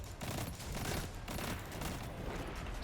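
Sustained scout rifle fire from the Destiny Nightfall strike Warden of Nothing, rapid overlapping shots and impacts blending into a dense, loud, continuous barrage with no speech.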